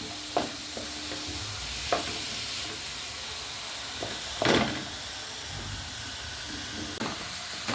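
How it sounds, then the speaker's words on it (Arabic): Onion softening in a pan before meat is added, giving a soft, steady sizzle at low level with a few brief clinks and scrapes of stirring scattered through. "دلوقتي البصلة اهي تدبل بس معايا البصلة الاول شوية كده"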